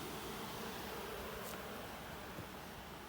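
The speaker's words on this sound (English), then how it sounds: "Less and less bees on the outside." A honeybee swarm hums around a hive where bees are bearding on the outside, a dense, even buzzing close to the microphone that holds steady throughout, with no talk.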